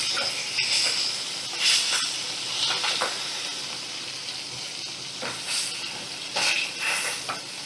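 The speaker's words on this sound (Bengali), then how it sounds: "বাটা মাছগুলো ভালো করে ভাজা ভাজা হয়ে গেছে" Bata fish frying in oil in a wok, a steady close sizzle with bursts of crackle and occasional stirring scrapes, no voices.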